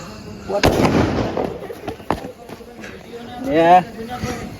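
A Diwali firecracker gives a sharp burst, followed by a fainter pop, while people talk loudly throughout in a Gujarati comedy scene.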